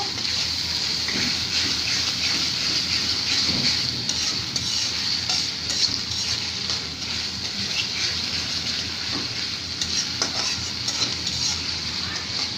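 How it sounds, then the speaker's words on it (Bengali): Onion paste and sliced onions frying together in a pan give a steady, close sizzle with light stirring scrapes throughout, and no voices. "বাটা পেঁয়াজটা আমি এই পেঁয়াজের সাথে ভালো করে ভেজে নেব।"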